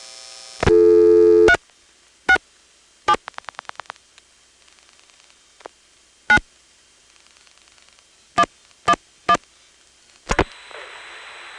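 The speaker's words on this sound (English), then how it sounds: "When you call 367 from here, the register sender dials, not surprisingly," A Stromberg XY register sender dials a number with short bursts of pulsed tones and clicks between gaps, after a brief buzzing tone, ending in a steady intercept-style tone on a telephone line.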